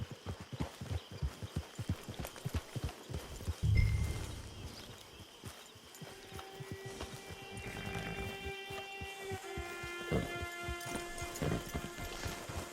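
Horse hooves clip-clopping in the Western video game Red Dead Redemption 2 on PS4, a quick steady run of close hoofbeats with a brief thump midway, then softer steps under game music and ambience.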